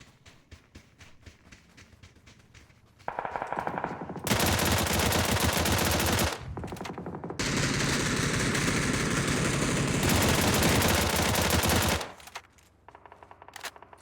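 Long sustained bursts of rapid machine gun fire, loud and close, with brief pauses and quieter rattling shots before and after, in the video game PUBG.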